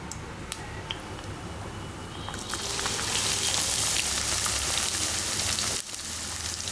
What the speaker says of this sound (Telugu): ఉల్లిపాయ ముక్కలు వేసుకున్నాక వీటిని కాసింత కలర్ మారేటంత వరకు వీటిని ఫ్రై చేసుకోవాలి